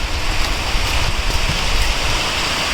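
Steady rain pours down outdoors with a dense, loud hiss and pattering, continuous throughout with no voices.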